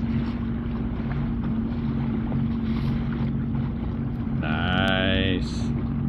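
A jet ski runs over open water between Geneva State Park, Ohio and Harrison Township, Michigan, giving a steady, close engine drone mixed with heavy wind rush and a brief whistling tone near the end.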